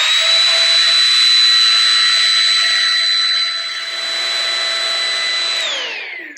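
A corded plug-in vacuum cleaner runs with a steady, loud motor whine and airflow rush, then its pitch sinks as it winds down at the very end.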